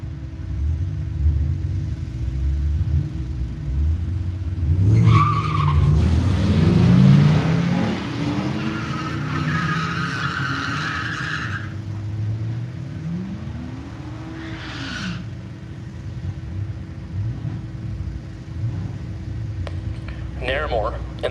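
Drag racing at Woodburn Dragstrip, a 2005 Chevrolet Silverado and a Dodge Viper running the eighth mile, engines rumbling and revving loudly at launch with rising pitch sweeps, while an announcer talks over the track noise throughout.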